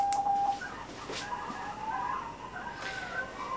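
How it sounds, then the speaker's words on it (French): Hens in a backyard coop cluck and call in short repeated phrases, faint and slightly distant, as if relayed through a baby monitor into a kitchen. "Vous entendez mes poules en arrière?"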